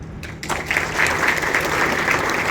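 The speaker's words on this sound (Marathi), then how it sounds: "आपण सर्वांनी टाळ्या वाजून त्यांचं अभिनंदन केलं पाहिजे" An audience claps in applause after a song on voter awareness performed at a state-level education workshop. The clapping is loud, dense and sustained, rising quickly and holding steady throughout.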